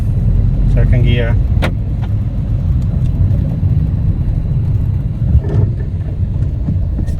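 A Fiat 500 in poor condition drives along in second gear, its engine a steady low rumble throughout, with a brief whine and a few knocks rising over the drone.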